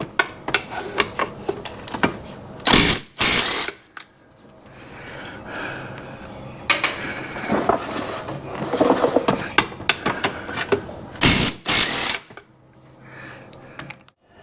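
Rear wheel being taken off a Honda Goldwing motorcycle, with close metallic clanks, ratcheting and shifting clunks in irregular bursts, plus a few loud thumps as the wheel comes free.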